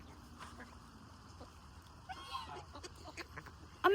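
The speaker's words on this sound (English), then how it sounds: "There's the Chinese goose." A Chinese goose calling by the water, faint and distant honks scattered over outdoor background noise, ending in a sudden louder burst.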